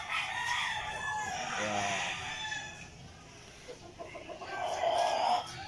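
Roosters crow and hens cluck in a backyard flock of fighting cocks, several drawn-out crows rising over busy clucking, fairly close, with someone talking intermittently.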